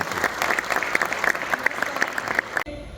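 Audience applause after a theatre drama performance, a steady burst of many hands clapping at moderate distance, which cuts off abruptly near the end.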